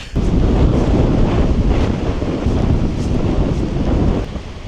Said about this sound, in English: It's just a little windy here, huh?